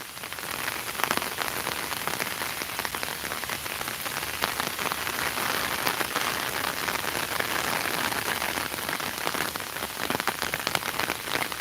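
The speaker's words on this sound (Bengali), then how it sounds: "বৃষ্টির সময় গ্রামের অবস্থা" Steady rain pours on a village in Sylhet, a dense, even hiss of drops striking surfaces nearby, loud and unbroken throughout with no voices.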